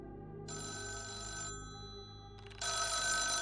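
A telephone rings in the video game Dial 666, a clear electronic bell ring heard alone in a quiet room, sounding twice with a short pause between rings.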